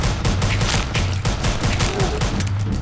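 Rapid pistol gunfire in the Roblox video game, a dense continuous volley of loud shots filling the whole stretch without pause.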